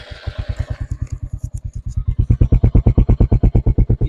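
Royal Enfield Hunter 350 motorcycle engine thumping in a steady, even beat at low revs, close and loud, the pulses growing stronger and slightly quicker as it pulls away slowly.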